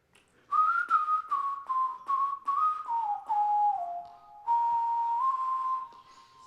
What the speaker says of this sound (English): whistles that I'm super envious of, and not all of them need Melodyne